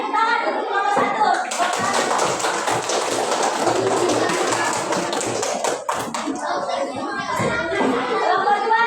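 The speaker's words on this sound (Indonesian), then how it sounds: "Sudah kita tepuk tangan untuk kelompok 1." Primary school classmates clap for group 1 in a classroom, a dense rhythmic patter of many small hands that runs steadily for several seconds, with children's voices mixed in.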